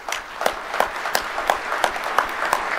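Audience applauds during a governor's keynote address at an agriculture day event at a state capitol, a steady wash of clapping with regularly repeating sharper claps, moderately loud and with no speech over it.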